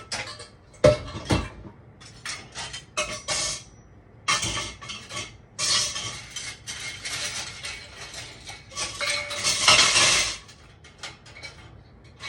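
Dishes and metal cutlery clink and clatter in a kitchen as they are put away, a series of sharp, irregular knocks and rattles at close range, with no talk.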